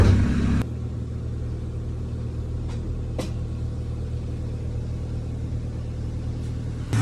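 A car engine idles steadily with a low rumbling hum, a couple of faint clicks along the way.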